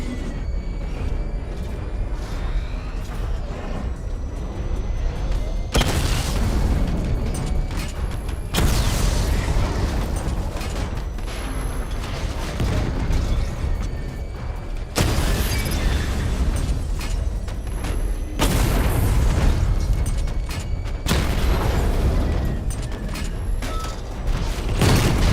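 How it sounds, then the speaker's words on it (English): Missile barrage explosions in Batman Arkham Knight go off loud and close: repeated heavy blasts roll one after another with rumbling tails and mechanical clatter, and no talk. "Charge up missile barrage to level 2 and destroy 4 active targets to complete diagnostic test."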